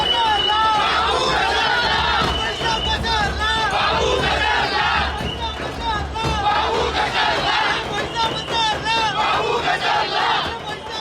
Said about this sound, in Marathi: दादर माहीम मतदारसंघाचे आमदार असलेले महेश सावंत यांच्याकडून हा जल्लोष केला जातोय